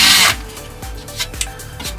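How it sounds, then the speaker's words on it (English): A power drill boring a pilot hole, starting with a brief loud whirring burst that cuts off, followed by quieter scraping and rhythmic low knocks close by. "So we do a pilot hole first. But be careful not to drill into anything."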